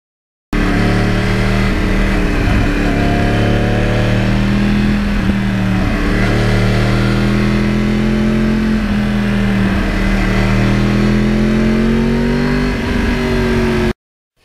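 A custom Yamaha R1 Crossplane 1000 motorcycle revs hard through the gears, its loud, close engine note climbing and dropping with each shift over a steady roar.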